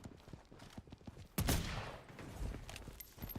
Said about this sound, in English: Ooh, we are getting sniped as well.